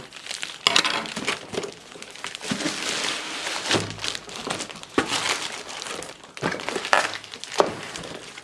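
Someone opens a taped cardboard box holding an Acura AC 738 double-headed massage device: close crinkling, rustling and tearing of tape and cardboard, with occasional thunks and handling knocks, and no voices.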